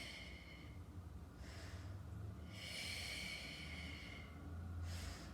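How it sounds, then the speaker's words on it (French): Heavy breaths in and out during a Pilates exercise class, three or four long airy exhalations close to the microphone with short gaps between them and no talking. "J'inspire, j'expire."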